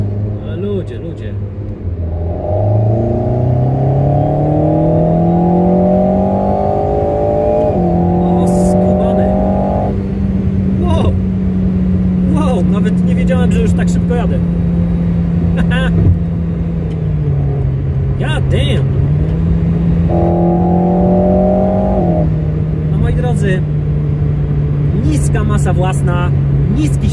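An Alpine A110 Pure sports car roars loudly as it accelerates, its engine pitch climbing and dropping back through several gear changes in a sustained, close, continuous drone.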